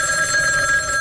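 A telephone rings in a 1970s radio advertisement for Houston station KULF: a steady, bright electronic ring that continues loud and unbroken, with no speech over it.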